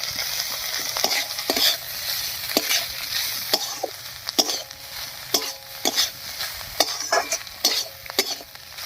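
A spatula repeatedly scrapes and stirs cauliflower paratha filling in a hot pan, producing a rhythmic series of close metallic strokes over a low, steady sizzle.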